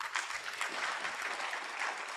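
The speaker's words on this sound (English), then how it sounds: "give a hand clap" Audience applause closes a presentation at a Tangaza University conference, a steady wash of hand clapping from a seated crowd that holds evenly throughout, with no voices over it.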